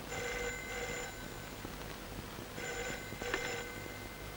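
An old-style telephone bell rings in two bursts separated by a brief pause, loud and close over low background noise in an indoor film scene, with no voices.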